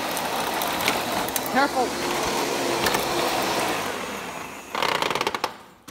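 A Panasonic Jet-Flo MC-5155 upright vacuum cleaner from around 1991-1992, with a 5.7 amp motor, runs with a loud steady motor whine up close, under brief speech, ending in a rattling burst before it stops.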